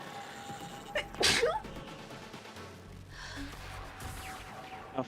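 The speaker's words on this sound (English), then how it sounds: "I turned away from the microphone, sneezed, and then breathed in afterwards" A person sneezes once, turned away from the microphone, a sharp burst followed by a quieter intake of breath, faint and low over background game sound.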